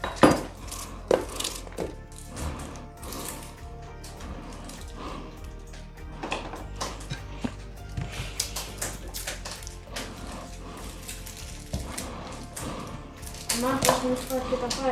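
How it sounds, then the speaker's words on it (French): A knife chops onions coarsely on a cutting board in quick, uneven rhythmic taps, moderately close, with a person talking over the chopping throughout. "pour les oignons, hein, c'est simple. Comme j'ai dit tout à l'heure, ça va être mixé. Donc, on coupe grossièrement."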